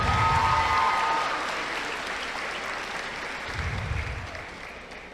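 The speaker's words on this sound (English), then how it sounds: "Round of applause, girls, for your guest speaker." Commencement audience of girls applauding a guest speaker at St. Catherine Academy, a dense burst of clapping that fades slowly, with faint voices rising near the end.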